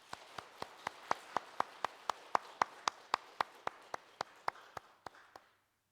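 A church congregation claps in unison to welcome returning worshippers during a Sunday service: around twenty crisp, evenly spaced claps in a steady rhythm, building slightly, then tapering off and stopping into silence.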